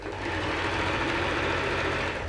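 A sewing machine runs steadily, stitching a fancy sequin-like fabric, with a dense, continuous whirring close up and no pauses.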